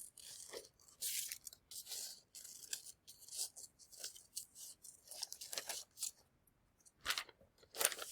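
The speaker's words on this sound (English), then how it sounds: "you don't have to watch me cutting out" Scissors snipping through paper to cut out craft pieces for a banana split craft, close bursts of crisp cutting with short pauses between runs of snips.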